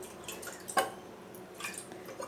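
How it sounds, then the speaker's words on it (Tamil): A plate being rinsed by hand in clean drinking water, with a soft running trickle and a few sharper splashes and drips, fairly quiet and with no talk. "அதில் ஒரு வாட்டி கழுவி எடுத்துக்கணும் தட்டும் அதே மாதிரி கழுவுறேன்"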